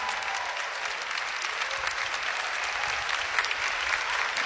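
A church congregation at a Catholic retreat camp claps in sustained, dense applause that holds evenly throughout without pause or voices.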